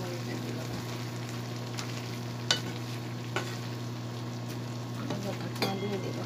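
Green chilies frying in a pan with pumpkin leaves and dried fish give off a steady, close sizzle, with a few sharp clicks of stirring utensils against the pan.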